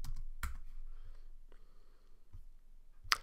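A few soft keystrokes on a computer keyboard, quiet and sparse, with short clicks spread over a few seconds and near silence between them.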